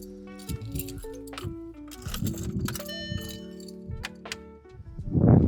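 VW Polo car keys jangle and clink close by during a search, giving a run of bright metallic rattles and chimes that swell into a louder rustle at the end.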